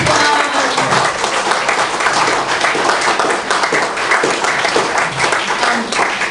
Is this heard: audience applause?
yes